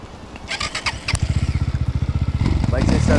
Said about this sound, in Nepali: बल्ल बल्ल बाइक चाहिँ स्टार्ट भयो है